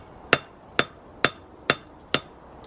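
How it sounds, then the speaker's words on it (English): Five evenly spaced sharp metallic hammer strikes ring out on an anvil as a forged arrowhead is worked, each blow crisp and close with a short ringing decay, no talking. "making sure to do an even sort of hammering across the entire thing to properly join the two into a single piece"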